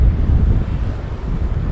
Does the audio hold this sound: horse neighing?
no